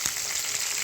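Onions and large green chillies frying in oil for a bean and tomato curry, a steady broadband sizzle filling the short moment without talk.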